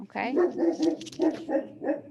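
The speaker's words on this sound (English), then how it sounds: "So I apologize for my barking dogs." A dog barks several times in quick succession with whiny, yelping tones, and a person briefly speaks over it.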